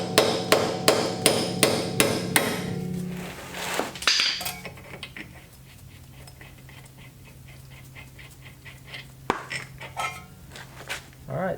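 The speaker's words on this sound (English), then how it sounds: "grab my hammer" A hammer taps a wheel stud out of a Mazda Miata hub, with a fast, even series of sharp metallic knocks at first, then a few heavier, spaced strikes ringing close by.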